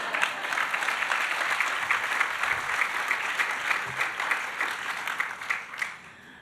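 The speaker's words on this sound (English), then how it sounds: "You can clap." A large audience at the 2023 GVSU university address breaks into sustained, dense applause that stays steady for several seconds before tapering off near the end.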